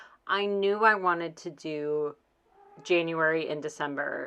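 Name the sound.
cat meowing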